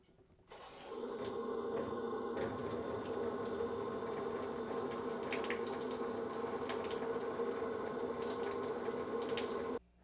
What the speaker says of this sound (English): Turn on some water, maybe.